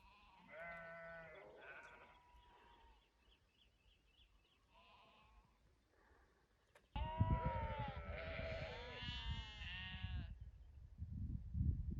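Akkaraman sheep flock bleating in open mountain pasture, a few faint bleats at first, then from about seven seconds a loud, dense chorus of overlapping bleats close by, continuing to the end.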